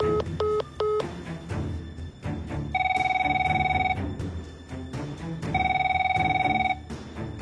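A telephone is dialed with a quick run of keypad tones, then rings in two long electronic bursts with a pause between them, a sound effect in a Bengali detective audio drama set around a 2 a.m. call.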